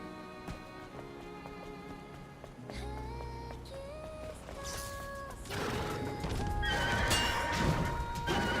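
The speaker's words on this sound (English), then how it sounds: "Sounds like a big horsey." Horse neighing in the video game Stellar Blade, a whinny with rising and falling tones over hoof clip-clops and layered game music and effects, growing louder and denser toward the end.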